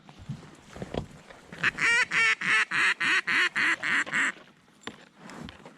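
Waterfowl honk in a rapid, loud series of about a dozen evenly spaced calls during a public land duck hunt from a kayak, with people talking quietly before and after.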